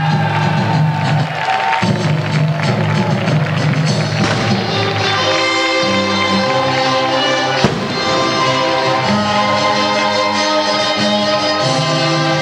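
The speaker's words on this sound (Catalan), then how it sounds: "Recibim en un fort aplaudiment al representant i banderí de la fila" A crowd at a 1996 flag-bearer presentation in Benissa applauds and cheers steadily for the Pirates row's representative, with loud, dense clapping blended with band music throughout.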